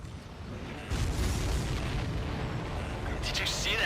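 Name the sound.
explosion in the video game Ace Combat 7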